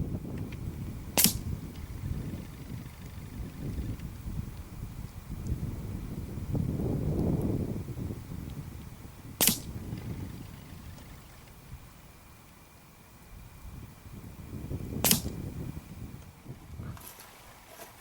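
An air rifle in .22 calibre fires three sharp, snappy shots several seconds apart while its MTC Genesis scope is zeroed at 60 yards, each crack standing out over gusty wind rumble.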